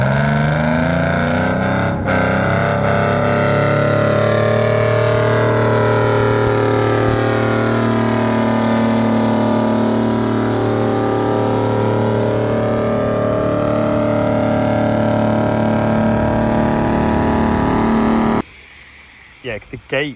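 A loud, heavily distorted tractor-pull engine roars steadily at high revs for most of the clip, then cuts off abruptly near the end.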